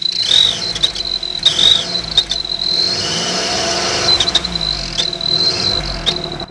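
A turbo whistle exhaust silencer fitted to a Maruti Wagon R car exhaust gives a steady high-pitched whistle that swells in several bursts as the engine is revved. A low engine drone runs underneath, with no talking.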